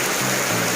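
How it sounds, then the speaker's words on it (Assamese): Heavy rain falls steadily at a school's Saraswati Puja celebration, a dense, continuous broadband hiss with no pauses, close and loud throughout. "ইমান বৰষুণ তথাপিও"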